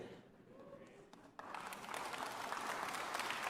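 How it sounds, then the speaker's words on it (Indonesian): A room falls quiet at a church service, then the congregation breaks into sustained applause that swells and continues steadily to the end, with a voice briefly heard. "Gak jawab tapi tepuk tangan biar gak ketahuan ya."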